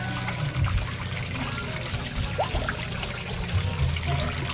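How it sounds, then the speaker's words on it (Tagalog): Water from a koi pond aerator and filtration system bubbles and churns steadily and loudly, a continuous rushing wash with no talking. "Sa sobrang lakas niya, ang dami-daming bubbles na naproproduce niya."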